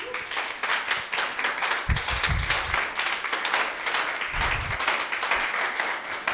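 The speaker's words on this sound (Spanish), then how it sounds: "Dale un aplauso a Jesús." Church congregation applauding during a Spanish-language sermon, a steady wash of clapping from many hands across the whole stretch, with a few low thumps breaking through.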